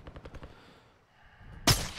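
A single sharp, loud sniper shot from an SP-X 80 rifle rings out in a Call of Duty DMZ match, following a soft rhythmic run of footsteps and a quiet lull.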